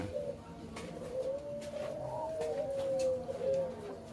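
A puter pelung dove coos in a long, wavering, drawn-out call, faint and a little distant, over low background hum, with no voices.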